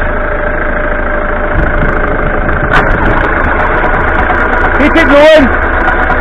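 A 1989 Ford Fiesta Ghia that has stood unused since 2014 runs with a steady, rough engine drone, heard close while people talk over it.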